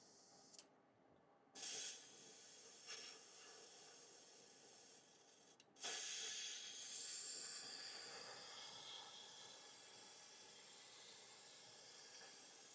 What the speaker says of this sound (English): for this piece I will need the airbrush to be low pressure as well